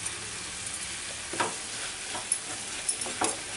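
Cauliflower pieces fry in a pan with salt, turmeric and chilli powder, giving a steady close sizzle broken by a few sharp scrapes and clinks as the mixture is stirred.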